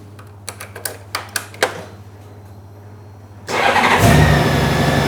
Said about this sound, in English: the bike starts away fine